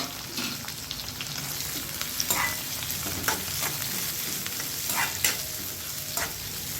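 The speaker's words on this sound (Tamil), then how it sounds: "இதை இப்போ நல்லா வதக்கி எடுத்துக்கலாம்." Onions and mild green chilies sautéing in a pan for a roasted gram water chutney, a steady close sizzle broken by several sharp scraping stirs of a spatula, with no voices.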